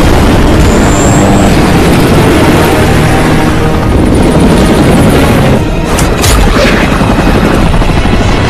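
A hijacked helicopter roars loudly in a film action sequence, its rotor and engine thundering nonstop with booming impacts layered in near the end.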